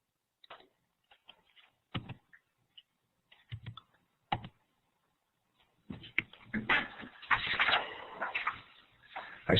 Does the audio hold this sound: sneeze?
no